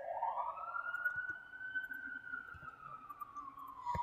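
Police sirens wail outside, heard faintly from a distance through a room, one long rising and falling tone sweeping across the whole stretch with no talk over it.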